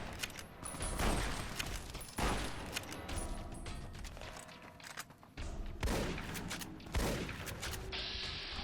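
Gunfire in the video game Fallout: New Vegas, Old World Blues, comes as repeated sharp shots and short bursts, with several cracks through a quiet, close mix.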